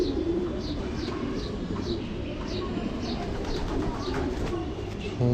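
Racing pigeons coo in a loft, a steady series of soft repeated calls with some chirps, over a constant background rumble with no talk.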